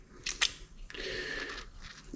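A couple of quick clicks, then a steady hissing spray of aerosol brake cleaner that continues for over a second, close and quiet, during a front brake job on a 1978 Dodge Ramcharger.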